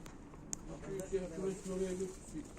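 Pigeons, apparently two males of fine plumage kept for rehoming, coo softly and close by in short repeated low phrases.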